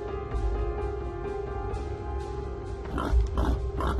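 A pig grunts repeatedly in low, rough bursts near a house, over a steady background hum, with the grunts growing louder toward the end.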